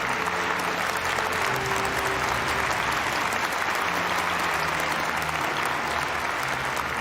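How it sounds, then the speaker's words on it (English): Audience applause at the 2022 Sunhak Peace Prize award ceremony, dense steady clapping from a large crowd that holds at an even level throughout. "Please welcome him with a big round of applause."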